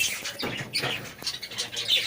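Pet lovebirds in an aviary give short, bright chirps and squawks, scattered and moderately close, with some faint background noise.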